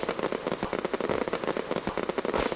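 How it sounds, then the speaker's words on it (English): Firecracker bursting in the video game Dragon and Home, a dense run of sharp crackling pops that snap on and off steadily for a few seconds, fairly loud with no voices. "Equip the firecracker, go near the beast and throw it"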